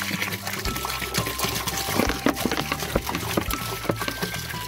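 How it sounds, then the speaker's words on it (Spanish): Two liters of water pour into a batch of homemade liquid laundry detergent, a continuous close splashing gush with trickling and bubbling that runs steadily throughout, with no voices. "Y le echamos 2 litritos de agua."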